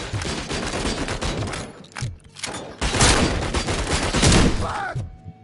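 Gunfire in the video game RoboCop: Rogue City: loud, dense volleys of shots and impacts with a brief lull, close and sustained.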